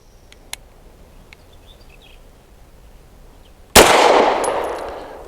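A single sharp 9mm pistol shot fired with Winchester USA Ready 115-grain ammunition cracks loud and close, followed by a long decaying echo, after a quiet stretch with a faint earlier click.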